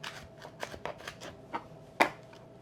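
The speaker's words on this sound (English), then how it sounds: "we're going to cut it lengthwise" A knife slicing a fennel bulb lengthwise on a cutting board for an Italian fennel orange salad, a series of soft crunchy cuts ending in one sharper snap, close and fairly quiet.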